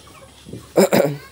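A hen on a poultry farm gives two quick, loud squawks close by over a quiet background.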